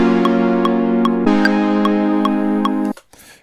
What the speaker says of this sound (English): This is the metronome. If that's highlighted, that means it's on, and then you hear that beeping sound.